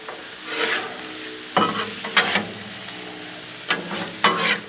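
Shrimp stirred and sizzling on a Blackstone griddle, a steady hiss of frying punctuated by several sharp scraping strokes of a spatula against the flat steel surface, close and fairly loud.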